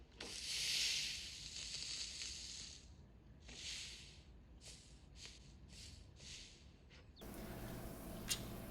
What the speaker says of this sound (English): I'm going to melt some butter on the pan now